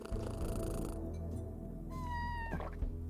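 A cat in the video game Kathy Rain 2 gives a clear, rising meow with a purring undertone, close and prominent over a low steady hum.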